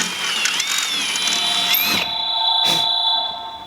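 A power drill bores a hole through a duck boat hull to mount an LED light, a steady high whine running with shifting pitch, a brief pause near the middle, then a short burst before the motor settles again.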